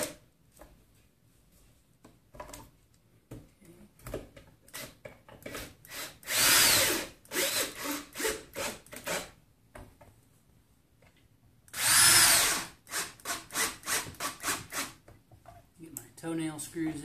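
Toenail screws being driven by a power drill into a rustic table built from recycled decking, two loud whirring bursts and several shorter revs, with someone talking between them.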